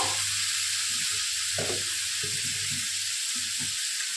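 Chicken fries in a pan with garlic, onion, tomato and turmeric, giving a steady close sizzle with faint stirring scrapes and no talk.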